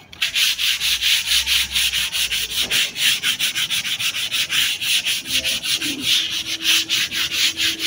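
Sandpaper scrubs hard over a cement surface before painting, with fast, rhythmic back-and-forth strokes, loud and close and steady throughout.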